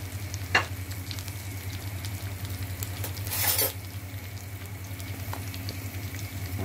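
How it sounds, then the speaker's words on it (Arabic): Whole raw chicken livers sizzle and spatter steadily in hot oil in a pan, a continuous close frying hiss with a few sharper pops and a brief louder surge as they are stirred. "هنزل بقى بالكبد، هوسع بس مكان كده عشان الكبد نيه، هتبدا بقى تاخد تشويحه"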